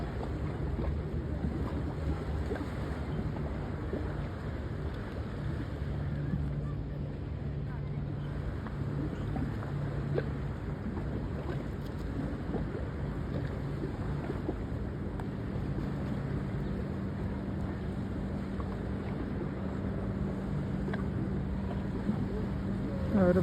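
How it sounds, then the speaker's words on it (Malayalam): A boat moves across open water with a steady low engine drone, mixed with wind buffeting the microphone and faint water wash, continuous throughout. "ഒരു ബോട്ട് പോകുന്നു."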